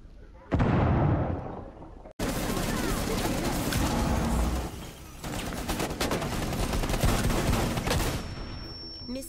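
Loud, dense video-game gunfire with revolvers, starting with a sharp blast and then running as a near-continuous barrage of overlapping shots and booms up close, with a brief gap about two seconds in.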